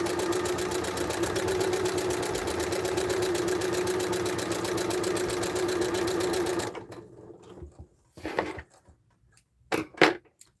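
A sewing machine runs steadily while quilting lines on a quilt-along sweater project, a loud, even mechanical whir for several seconds that stops abruptly, followed by a few short clicks and bursts of handling.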